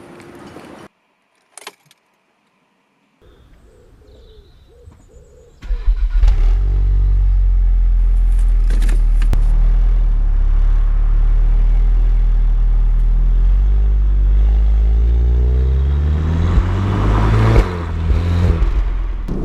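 Keys jangle in near silence, then a Volkswagen Golf R MK7 with a DSG gearbox starts with a sudden loud engine burst and settles into a steady, close, deep drone as it drives off, with a brief rev swell near the end.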